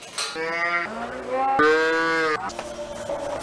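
Cattle moo in several long, loud calls that overlap and follow one another in quick succession, with one cow bellowing after another close by.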